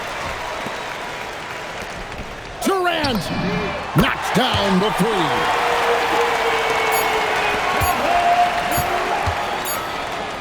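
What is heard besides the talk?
crowd applauding in NBA 2K26 video game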